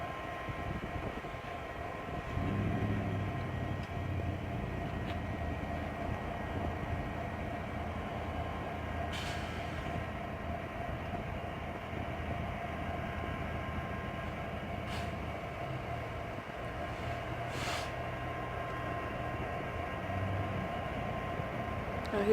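A train idles and rumbles at the Winnemucca depot on a windy day, a low steady engine drone lasting throughout with a few faint clanks and brief hisses, heard from nearby without any talk.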